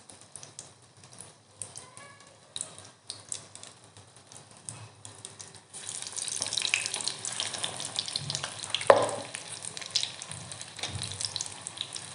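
Chili fritters (mirchi vada) coated in batter sizzle as they fry in hot oil, a steady crackling hiss that grows louder and denser partway through, heard up close with no talking.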